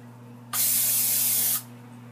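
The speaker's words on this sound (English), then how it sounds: "so I'm going to spray." Cooking oil sprayed into a pot while preparing dirty rice, heard as a single steady hiss of about one second, close and fairly loud over a constant low hum.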